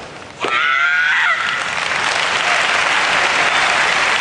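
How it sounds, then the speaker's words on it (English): A stadium crowd at a rugby match roars for the Japanese team, rising suddenly after a short whistle-like shriek into loud, sustained cheering and applause that carries on to the end. "The Japanese and the crowd, as we can hear, absolutely getting behind them"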